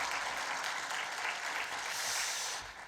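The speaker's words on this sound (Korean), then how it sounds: "우리 격려의 박수 한번 보내주면 좋겠습니다" Congregation in a church giving a round of encouraging applause, steady dense clapping from a crowd that fades slightly at the end, no speech over it.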